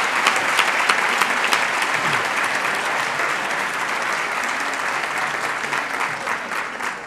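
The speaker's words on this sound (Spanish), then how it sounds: "me gustaría que todo el comité le diera un fuerte aplauso a todo el Grupo Municipal" Loud, continuous applause from a party committee audience at a Partido Popular event in Marbella, dense clapping with a few sharper claps standing out, holding steady throughout.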